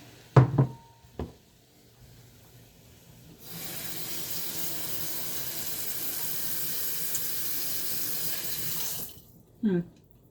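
A kitchen tap runs steadily for several seconds while making cauliflower curry, framed by a few knocks and clatters before and a brief sound after it shuts off.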